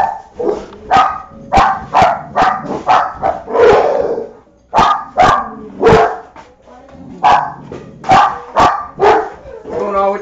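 Dogs bark in rapid, repeated yips and woofs throughout, loud and close, sometimes overlapping, with a brief lull partway through before the excited barking resumes.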